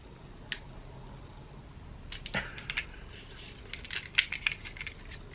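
A new NARS makeup brush being unwrapped from its packaging, with faint, close crinkles and small clicks and rustles in short scattered bursts and no talking.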